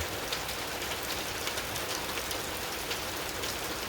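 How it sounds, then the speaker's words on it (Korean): Steady patter of water falling and splashing, a continuous dense trickle like runoff from eaves, close and even throughout with no voices. "처마에서 떨어지는 낙숫물 소리"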